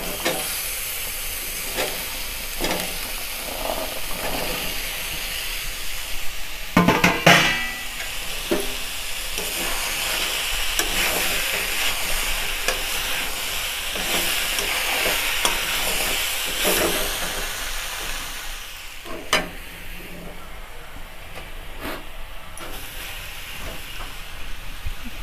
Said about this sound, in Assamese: এয়া মছলাখিনি ভালকৈ ভাজ খালে এতিয়া ইয়াতে মই আলু আৰু চজিনাখিনি মই ইয়াতে দি দিম।